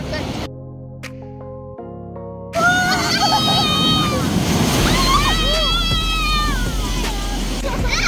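Strong sea waves roll onto a beach at a Zambales nature resort, a broad, steady wash of surf that fills the background while a person talks and music plays briefly at first.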